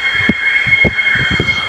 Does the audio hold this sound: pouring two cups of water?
no